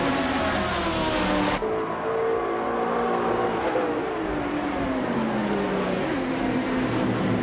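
A 2004 Porsche Carrera GTR race car launching off the line, a loud, continuous engine roar climbing through the revs with a sharp change in tone early on, then steadily rising pitch as it pulls away.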